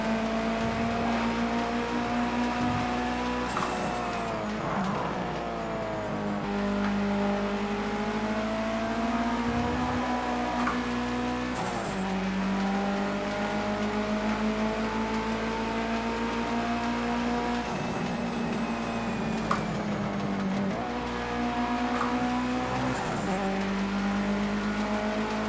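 A Mitsubishi Evo IX engine drones steadily around the Nordschleife in Project Cars 2, its pitch rising and falling through gear changes and corners, with tire and curb noise underneath.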